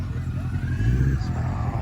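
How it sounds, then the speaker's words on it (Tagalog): Low, rumbling engine noise of motorcycles going by at moderate distance in Waterton on a windy day, steady and droning with no voices. "Ayan na mga nagmumotor oh. Mga motor oh."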